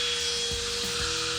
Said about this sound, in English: I'm applying a pretty good amount of pressure to try to get all the water extracted out of